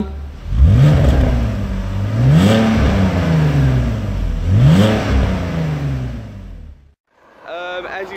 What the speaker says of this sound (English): we're just giving the stock exhaust a bit of a rev